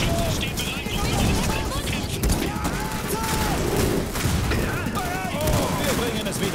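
Suppressive gunfire in the strategy video game Iron Harvest: dense, overlapping rattling volleys and distant booms roll on without pause, with game voices speaking over the battle.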